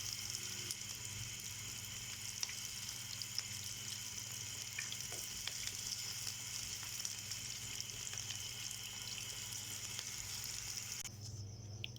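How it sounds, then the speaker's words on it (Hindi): Potato tikkis (aloo tikki) frying in hot oil in a pan, giving a steady close sizzle and crackle with faint occasional clinks, continuous throughout with no speech. "ये हमारी आलू की टिक्कियाँ बड़ी स्पीडी फ्राई हो रही हैं"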